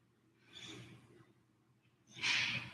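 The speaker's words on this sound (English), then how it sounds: "in our child pose with our deep yogic breathing" Deep yogic breathing in child pose during a restorative yoga session. Two slow, airy breaths sound close by, the second louder and longer than the first.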